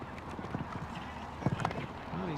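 Hooves of Brooklyn, a show jumping horse, clip-clop on an indoor arena surface at Hickstead, a quick irregular run of thuds with louder strikes midway, heard with faint crowd noise.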